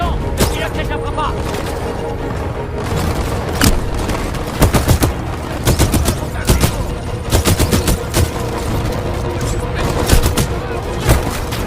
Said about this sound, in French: Attaque d'infanterie ennemie. Tire de suppression.